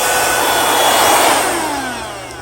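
An Ionvac Power Max portable vacuum cleaner runs with a loud, steady whining hiss close by, its roar easing slightly as it continues, with no talking.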